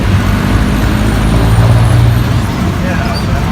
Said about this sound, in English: Lots of traffic. As Manila is famous for its traffic.